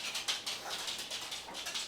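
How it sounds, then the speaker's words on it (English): A dog whimpers and whines in a quiet indoor room, with a faint series of short, repeated high-pitched cries and no other sound. "Of course, I get interrupted by my dog."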